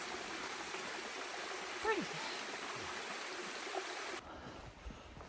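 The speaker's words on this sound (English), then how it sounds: "Oh, a little pretty little waterfall thing." A small waterfall stream on the Appalachian Trail rushes steadily on a cold morning, a constant mid-distance wash of water with a brief spoken word.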